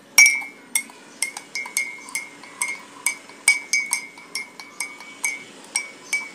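A spoon stirs sugar into a cup of milk tea, clinking sharply against the cup in a quick, fairly regular series of about a dozen bright ringing taps, close and clear with no talking.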